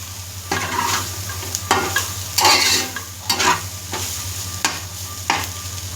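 Soya chunks (meal maker) and ivy gourd fry in a pan with a continuous sizzle, while a spatula stirs and scrapes in several distinct strokes spread across the clip; no voices.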